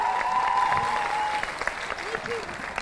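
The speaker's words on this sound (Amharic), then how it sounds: "ባካችሁ በድጋሚ ቆማችሁ አጨብጭቡላቸው።" Standing audience at a student quiz competition gives sustained applause for contestants, steady clapping with a voice speaking over it.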